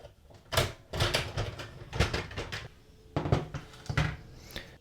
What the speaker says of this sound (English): open this door over here and take out the ink toner